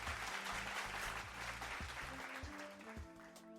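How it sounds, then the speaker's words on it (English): Applause sounds out at a steady level over a low, tonal background during a Sims 4 livestream, with the clapping texture continuous throughout and no speech on top. "We need some applause for that."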